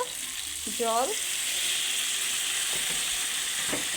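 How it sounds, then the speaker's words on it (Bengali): Raw chicken and potatoes stir-fried in a pan give a steady bright sizzle with occasional scraping stirs, plus a brief higher tonal squeak early on, close and continuous with no talking. "আমি এখানে কাঁচা গোশ আর কাঁচা আলু নিয়েছি, তাই আমি একটু ভালো করে কষে নিচ্ছি।"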